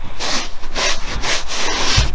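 Foaming cleaner is scrubbed into the headliner of a 2007 Chevy Tahoe, making loud close rubbing strokes in a steady back-and-forth rhythm of about four passes.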